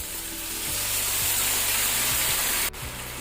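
Squid stir-frying in a pan with sauce added, a loud steady sizzle and hiss with a few soft stirring scrapes, ending in a sudden burst as liquid hits the hot pan.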